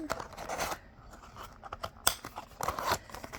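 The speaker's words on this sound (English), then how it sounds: "we're gonna cut the whole dish into separate parts here" Scissors snipping a plastic Popin' Cookin' candy kit tray into separate parts, a few sharp close cuts and crinkles spaced irregularly with quiet gaps between.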